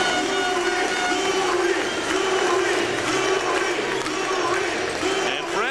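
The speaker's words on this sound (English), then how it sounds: "raises the cup and draws perhaps the loudest cheer." A hockey arena crowd roars steadily as the championship cup is raised after an OHL final Game 7, a dense, loud wall of cheering that holds throughout with some voices mixed in.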